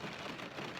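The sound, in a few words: rain falling outside during a hike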